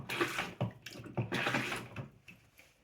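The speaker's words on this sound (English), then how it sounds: "I'm just going to put some water in there." Water splashes and gurgles as it is poured into a plastic Thetford 365 Porta Potti portable toilet, in uneven bursts close by.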